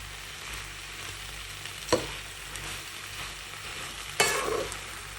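Tomatoes and tomato paste being stirred in a frying pan, a quiet steady sizzle with two brief scraping knocks of the utensil, close by and with no voices.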